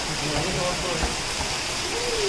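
Heavy rain at a farmhouse, a dense, even hiss of falling water filling the background at close range, with voices talking faintly underneath.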